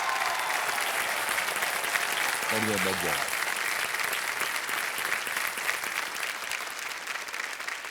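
Dense, continuous applause fills a quiz show studio throughout, loud and even, while someone speaks briefly over it.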